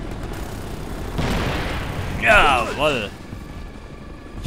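A helicopter shot down in the video game Ghost Recon Future Soldier, a burst of booming impact and mechanical noise with a short ringing, wavering crash tone, rising over a voice talking throughout.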